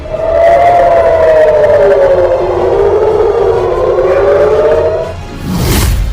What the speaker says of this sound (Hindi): हर तरफ सायरन बज रहे हैं।